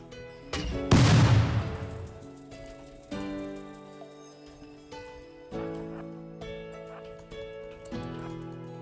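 SMG gunfire in RimWorld, a sharp loud burst near the start that decays away, followed by a few softer impacts over background music.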